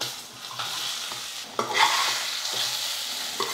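Boiled elephant foot yam sautéed in oil with masala, giving a close, steady sizzle with spatula scrapes and a brief louder burst of frying partway through.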